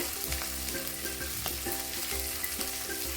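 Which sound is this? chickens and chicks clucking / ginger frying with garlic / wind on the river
ginger frying with garlic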